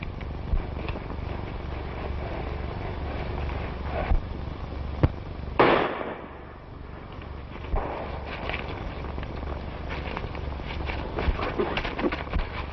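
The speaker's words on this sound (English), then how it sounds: "I tell you, I heard a shot." A single sharp gunshot cracks out in a 1936 western film, standing out over a steady old-soundtrack hiss with faint clip-clopping hooves and scattered thuds around it.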